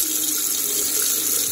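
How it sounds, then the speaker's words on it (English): Water runs steadily from a tap turned on with a LEGO baseplate, a continuous close splashing stream into a sink with no voices. "You can also use base plates to turn on the water"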